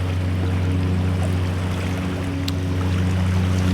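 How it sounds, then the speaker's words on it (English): A lawnmower engine runs nearby as a steady, unbroken low drone that stays even from start to finish, with no voices over it. "That's the lawnmower that we were hearing."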